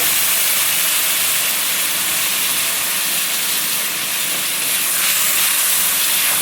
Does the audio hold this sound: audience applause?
no